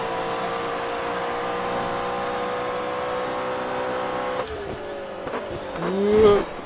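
A race car in the video game GRID Autosport slides across the track, a steady engine drone giving way near the end to a loud rising whine as the tyres lose grip.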